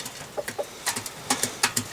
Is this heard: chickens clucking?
yes